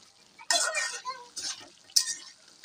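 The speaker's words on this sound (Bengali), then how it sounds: "সবজি দেওয়ার পর একটু নেড়ে চেড়ে দেই" Vegetables being stirred into a dried chela fish curry, with several scraping, clattering strokes of a utensil against the pot over a soft sizzle.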